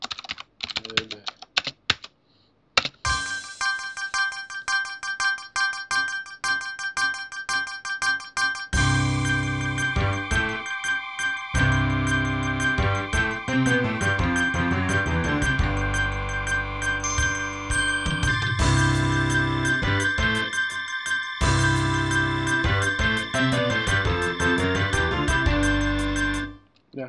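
Synthesized MIDI music plays back through an emulated MPU-401 sound card with layered tones and percussion, preceded by a few quick clicks, filling the space without voices.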